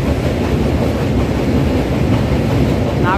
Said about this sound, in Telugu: సైడ్ అయితే మనకి ఏదో ట్రైన్ అయితే వెళ్ళిపోతుంది రాజమండ్రి స్టేషన్లోకి